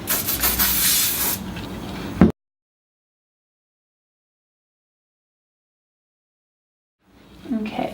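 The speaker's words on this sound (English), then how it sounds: "I'm just going to add some spray to get rid of any little wispy hairs." Hairspray misted onto hair while styling victory rolls, a close, loud hiss lasting about two seconds, followed by silence and then a brief faint sound at the end.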